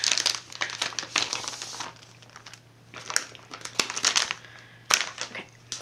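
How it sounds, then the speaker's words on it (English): Paper envelope from a Pipsticks Pro Plan planner subscription being opened by hand: close, fairly quiet crinkling and tearing of paper in irregular bursts with a few sharper crackles, no talk. "I'm gonna pull that. That comes, look at that beautiful envelope."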